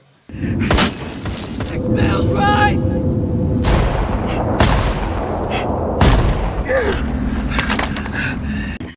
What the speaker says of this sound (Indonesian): langsung menembak ke beberapa arah ke tumpukan puing-puing itu